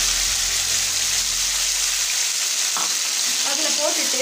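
Finely chopped tomatoes, a quarter kilo, hit hot oil in a pan for a Tamil-style tomato pickle, giving a loud, steady hiss and sizzle with a brief stirring scrape.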